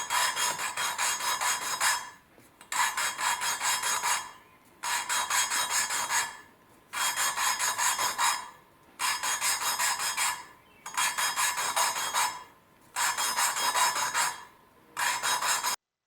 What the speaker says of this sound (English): You can hear when you first start lapping, it's a real coarse compound